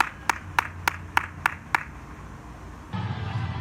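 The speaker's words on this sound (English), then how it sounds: "Clap it up." Six crisp, evenly spaced claps at a fall sports awards ceremony honoring a team captain. They are sparse and fairly close, then stop, giving way to a steady low background murmur.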